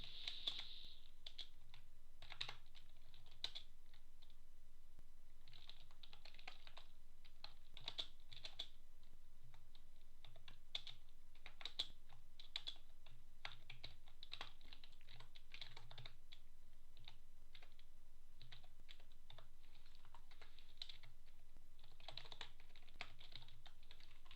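A computer keyboard is typed on while C# code is entered, giving quiet, scattered clusters of key clicks with short pauses over a faint low hum.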